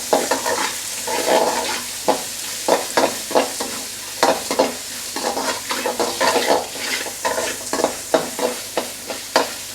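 Chopped onion added to a hot pan with fennel seeds and black pepper, stirred and frying for a crab gravy masala; steady sizzle with repeated scraping stir strokes in an irregular rhythm, close and clear, no talking.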